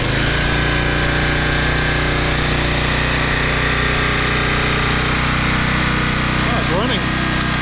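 A 2010 Toro Recycler Personal Pace 20333 lawn mower engine at start-up, roaring loudly and continuously close by with a harsh, rough tone throughout.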